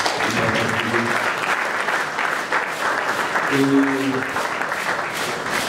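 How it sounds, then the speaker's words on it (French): An audience claps together in sustained, dense applause at a commercial product launch event, filling the whole stretch at an even loudness, with a voice speaking briefly over the clapping near the start and again partway through. "Est-ce qu'on peut applaudir tous ensemble pour..."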